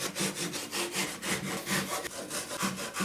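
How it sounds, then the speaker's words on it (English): A hand saw cuts a board end flush on a workbench in a shop, with rapid, even back-and-forth rasping strokes close up, about ten strokes in three seconds. "I'm just going to cut this end flush"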